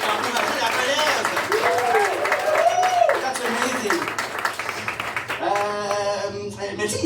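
An audience claps and cheers throughout a lively French-language show, with voices talking and calling out over the applause and a steady rustle of clapping beneath them.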